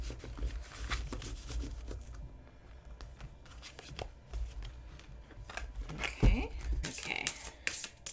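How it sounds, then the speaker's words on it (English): Close, papery riffling and sliding of a heavy-cardstock tarot deck being shuffled, irregular bursts of crisp rustling over a soft low background with occasional speech. "So let's do some shuffling."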